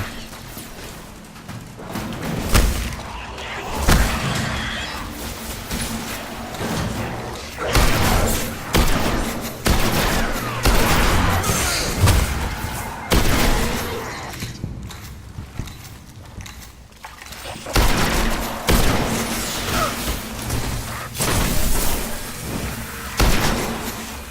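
Battle in the video game Destiny, with a dense, continuous mix of gunfire thuds, impacts and booming explosions, fairly loud and busy throughout with few pauses.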